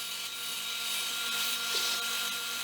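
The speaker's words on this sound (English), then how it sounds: "So I kind of rotated on the belt sander there to ease the edges over and give it a rounded feel." A belt sander rounds the edges of scrap wood pieces for a soap dish, a steady close whirring hiss of the belt with slight changes in pitch as the wood is pressed and rotated.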